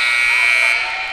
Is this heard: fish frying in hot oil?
no